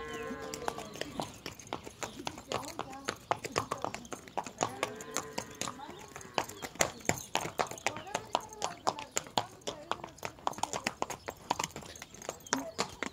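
Horse hooves clip-clopping steadily on a ranch, a close, rhythmic run of sharp hoof knocks throughout, with someone talking over them in Spanish.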